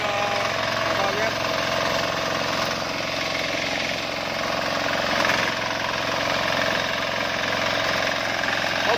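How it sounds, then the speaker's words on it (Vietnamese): A Sakura 188 diesel tiller runs loudly and close by while working soil, a continuous rattling engine drone with a heavy mechanical knock that holds steady throughout. "giờ mình sẽ lắp phay để phay nó phẳng cái đất này ra để trả lại cái mặt cho bà con nhé"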